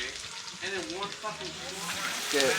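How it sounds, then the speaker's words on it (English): Bacon and potatoes frying in a pan for breakfast at a cabin, a soft steady sizzle heard close up under a voice talking. "We got some bacon going, some potatoes."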